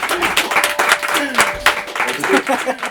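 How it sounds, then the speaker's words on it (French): A studio audience at a French rap show breaks into brief, dense applause, a short burst of many hands clapping with voices and cheers mixed in. "Applaudissements pour la deuxième anecdote"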